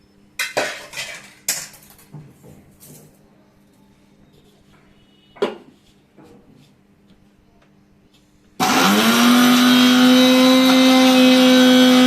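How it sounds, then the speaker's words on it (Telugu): An electric mixer grinder bursts into a loud, steady whine while grinding curry leaf and drumstick leaf powder, starting abruptly after a few scattered clinks of kitchen utensils. "కొంచెం వేడిగా ఉండగానే ఇది మొత్తం మిక్సీ పట్టాలి"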